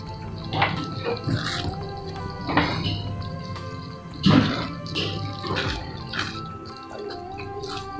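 A spoon stirs matar paneer gravy in a cooking pan, giving a few soft, wet, squelchy strokes at an uneven pace over a faint steady background hum.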